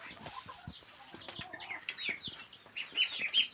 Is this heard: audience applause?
no